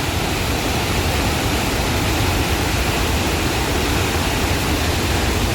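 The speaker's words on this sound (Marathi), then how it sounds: "एवढा याला फोर्स आहे की ते पाणी उलट यायला लागले," The Narmada river waterfall at Bhedaghat thunders in a loud, unbroken roar of falling water heard up close, with no voices.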